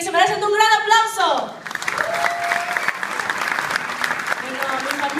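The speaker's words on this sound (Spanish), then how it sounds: "se merecen un gran aplauso" Audience applause fills an awards ceremony hall in Ecuador at the MBN awards, a steady wash of clapping following a speaker's voice, with talking over it.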